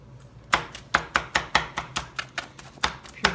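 A knife jabs repeatedly into a cold pot roast on a board, a dozen sharp close thuds in a quick uneven rhythm, with no talking.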